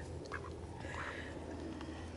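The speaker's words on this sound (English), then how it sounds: "Are the ducks eating their food?" Ducks at a lakeside picnic spot in Sheffield Park give a few short, fairly quiet quacks over steady outdoor background noise.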